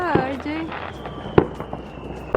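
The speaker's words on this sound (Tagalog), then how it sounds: "Yan ang fireworks sa likod." Fourth of July fireworks go off outside a neighbor's house at night, several sharp pops and bangs scattered over a noisy background, with people talking throughout.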